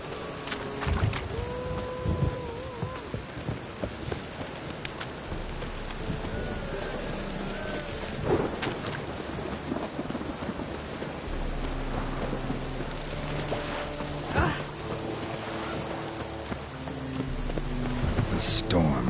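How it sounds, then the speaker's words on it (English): Rain from a storm in The Witcher 3 patters steadily throughout, with occasional low rumbles and cracks of thunder, while someone talks over the noise at times. "The storm, damn it."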